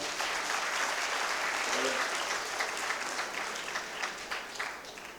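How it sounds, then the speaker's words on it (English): Audience at an alumni awards ceremony applauding an awardee, a steady wash of many hands clapping at a moderate, somewhat distant level that thins slightly toward the end. "Kindly applaud."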